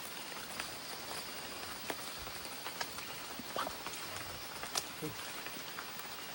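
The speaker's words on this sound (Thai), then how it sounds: "ฝนก็ตกด้วยนะทุกคนนะ" Steady rain patters down on a surface at night at a forest temple cave, with a few louder drips standing out against the constant wash of noise.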